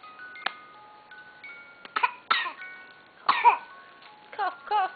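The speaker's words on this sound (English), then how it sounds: "Cough, cough." Several short, sharp coughs in quick bursts, close and fairly loud, with quiet pauses between them.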